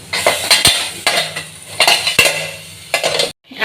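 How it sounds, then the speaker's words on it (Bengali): A metal lid and utensils on a pot of vegetarian taro-leaf greens: repeated loud clanks and scrapes in an irregular rhythm, close up, ending in a brief silence then another clatter. "ঢাকনাটা তুলে নিলাম"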